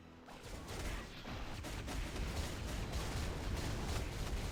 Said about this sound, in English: look how long the sentry gun stays around for